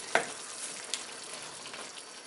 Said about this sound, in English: we're going to simmer this for about 10 minutes. Now this is going to be medium-low heat.